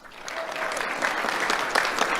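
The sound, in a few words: audience applause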